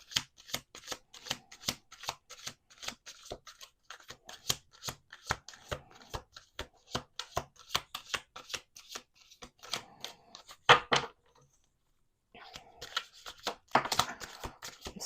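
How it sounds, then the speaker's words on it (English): Playing cards are shuffled repeatedly, a rapid string of crisp riffling bursts close up, with a brief pause near the end before more shuffling resumes; no voices. "2 more shuffles. Let's do 2 more shuffles."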